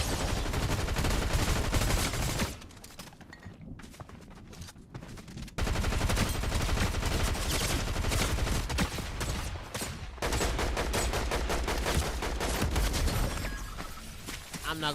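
Rapid gunfire in a video game with sniping, dense bursts of automatic shots that drop off briefly and resume, loud and close throughout, with a voice talking over parts of it.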